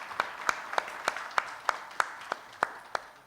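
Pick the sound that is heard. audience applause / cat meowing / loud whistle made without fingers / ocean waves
audience applause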